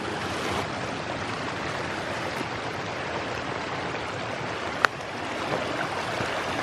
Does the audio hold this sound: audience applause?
no